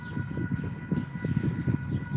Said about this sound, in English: right when the train was coming